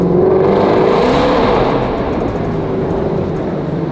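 A full-carbon widebody McLaren 12C GT3 race car engine pulls hard while accelerating, a loud close rising drone with a clear climbing engine note that eases off slightly toward the end.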